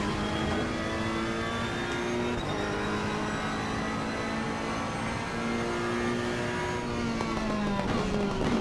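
Ferrari GT race car engine in Assetto Corsa Competizione at Watkins Glen, droning steadily at high revs with rising and falling pitch as the car accelerates and shifts, with other cars faintly around it.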